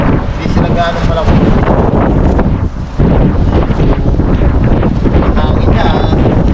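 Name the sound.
strong wind blowing outdoors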